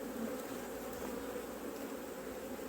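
Honeybees at hives during swarm preparation on the coast, a dense continuous buzzing hum from many insects, close and steady with no voices.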